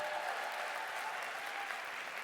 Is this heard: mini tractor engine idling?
no